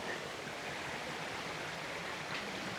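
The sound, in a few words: river flowing over stones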